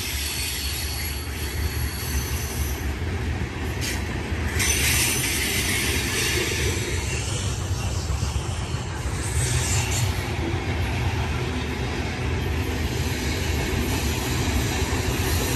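A BNSF freight train led by an SD70 locomotive hauls covered hoppers past at Blue Cut on Cajon Pass, a loud, continuous rumble of rolling wagons with clanking, faint wheel squeal and steady rail noise.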